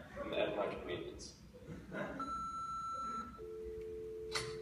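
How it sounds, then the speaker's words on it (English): A steady electronic answering machine beep tone on a stage during a high school musical, one sustained tone after a short pitched chirp, heard after a recorded voice speaks. "Leave a short message after the tone, and I'll call you back at my convenience."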